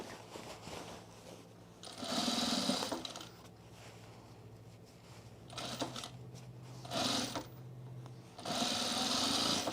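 A sewing machine runs in several bursts of rapid, whirring stitching along an overalls inseam, with quieter pauses between runs and a low steady hum underneath.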